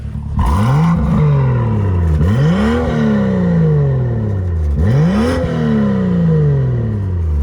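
A BMW M2 F87 with BMW M aftermarket sports exhaust revs three times in quick succession, each blip rising sharply then falling away, loud and close, with a raspy growl between.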